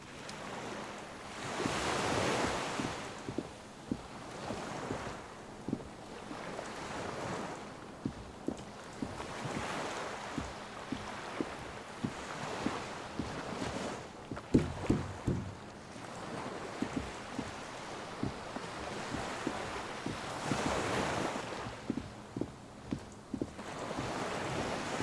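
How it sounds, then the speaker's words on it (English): Waves lap continuously against a dock where a skiff sways in Disco Elysium, a steady wash of surf with soft rhythmic splashes and knocks, heard alone at moderate level. "The skiff is swaying on the waves by the dock."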